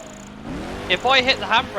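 A car in Project Gotham Racing 4 revs with a rising, strained engine note as its wheels spin while drifting, and someone talks over the second half.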